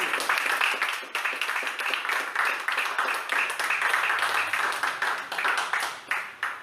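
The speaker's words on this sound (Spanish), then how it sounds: "Denle un aplauso al Señor." A church congregation claps together in a sustained burst of applause, steady and moderately loud, with some voices mixed in.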